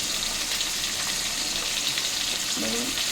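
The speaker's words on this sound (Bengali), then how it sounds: "ভালো করে মাছগুলো ভেজে নিতে হবে," Pieces of rohu fish fry in hot oil with a soft, even sizzle and a faint bubbling crackle, heard at low volume with a few light stirring sounds.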